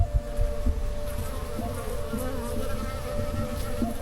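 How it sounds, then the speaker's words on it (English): Many bees buzz steadily around a flowering plant in the Mojave Desert, a close, continuous droning hum with no talk. "Tons of bees on this plant."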